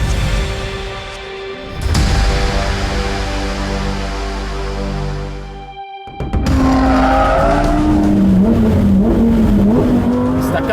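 A Lamborghini Huracan STO's V10 roars on the Vairano race track, loud and close: a sustained high-revving wail, a brief drop as it lifts off near six seconds, then hard revving again with tire squeal layered over the engine.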